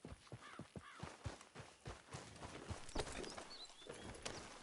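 Horse hooves clip-clop in a steady walking rhythm, close and fairly loud, in the Red Dead Redemption 2 video game, with a faint whinny and light ambient sound around them.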